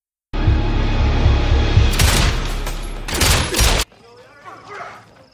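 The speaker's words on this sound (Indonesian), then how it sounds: "Untunglah tembakan itu gak fatal buat si Bob kecuali si Don" A rapid volley of gunfire in a film scene, bursts of shots crackling over a loud rumbling backdrop, followed by quieter scattered sounds and murmuring.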